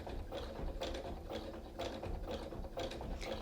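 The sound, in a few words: sewing machine stitching rope, needle down and pivoting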